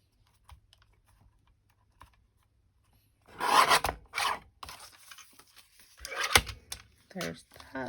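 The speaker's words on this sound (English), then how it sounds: "we're going to give this a trim with the guillotine" A paper guillotine trims card for a handmade sympathy card: two short, crisp slicing rasps close by after near silence, with light handling noises around them.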